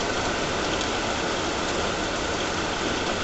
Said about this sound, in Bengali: এখন এই যে খুব জোর বৃষ্টি নেমেছে